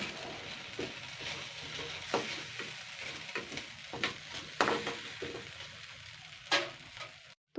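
Gobindobhog rice is stirred and lightly fried in a pan, soft sizzling broken by repeated scraping and clicking strokes of a spoon, close and fairly quiet, with no voices.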